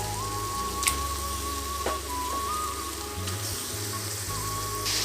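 Pieces of chicken sizzle steadily as they go into a pan of well-sautéed tomato for chicken kuzhambu, a continuous close crackling hiss with a low hum beneath and no talking.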